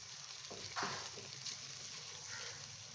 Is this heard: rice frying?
yes